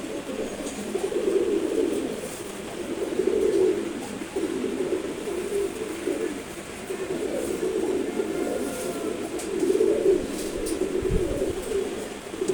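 A Sobji Gorra pigeon pair cooing nearby, low throaty coos rising and falling in slow waves over steady background noise, with no speech.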